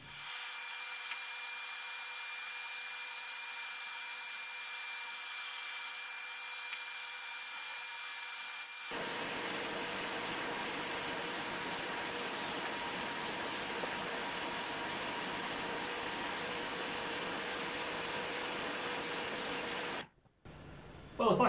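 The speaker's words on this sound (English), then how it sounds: "Better get some drilling done first though." A power drill whirs steadily through wood while drilling holes for planter boxes, a long stretch with a constant mechanical drone and grinding under it, then stops abruptly near the end.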